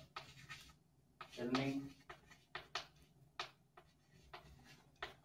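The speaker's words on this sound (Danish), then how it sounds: "Så det skriver jeg lige her." Pen or pencil scratching on paper as someone writes out maths notes about a parabola, heard as soft, irregular strokes alongside quiet speech.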